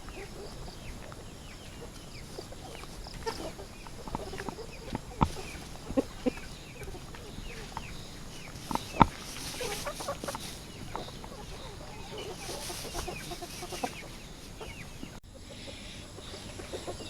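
Free range chickens clucking on a farm in Bauang, La Union, scattered soft clucks and occasional sharper calls over a quiet outdoor background, with someone speaking faintly at times.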